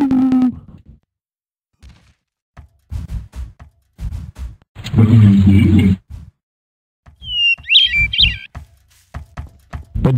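Bird chirps in the video game Garry's Mod come as short tweets and a brief high warbling call near the end, amid scattered in-game thuds and a loud burst of noise in the middle.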